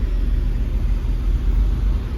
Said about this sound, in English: Lunchtime traffic.